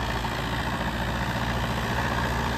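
A Sonalika tractor engine idles with a loud, steady, low rumbling drone and even vibration throughout, with no voices.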